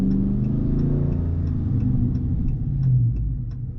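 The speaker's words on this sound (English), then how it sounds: "Definitely hear the cracks and pops now. The exhaust gets a lot louder." Throaty V8 exhaust from a 2022 Dodge Charger ScatPack driven downtown with paddle shifting, a loud, steady low rumble that swells and falls, with faint regular ticking above it.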